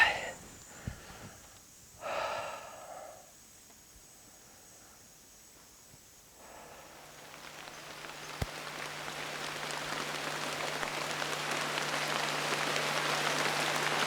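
Steady rain falls and builds into a dense, hissing wash through the second half, following a few quiet breaths and snorts early on, with one sharp click partway through.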